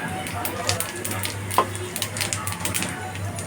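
Whole cumin seeds frying in hot oil while fish fry is being made, giving a soft, steady sizzle with scattered crackles and a few brief stirring clinks, close and fairly quiet throughout.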